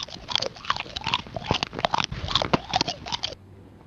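Someone bites into and chews a spicy Pancho Villa gyro up close, with loud, repeated crunchy bites and wet chewing sounds that stop just before the end, with no talking.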